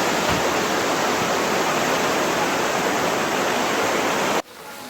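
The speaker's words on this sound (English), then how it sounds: "Going up under the bridge, a lot of water." Floodwater from a swollen river in Jamaica rushes under a bridge, a loud continuous roar of churning water that cuts off abruptly near the end.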